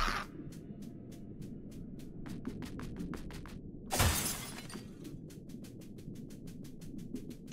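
Glass shatters in the crab adventure game Another Crab's Treasure, one sharp loud break standing out from a steady pattern of rapid ticking clicks, with no voices.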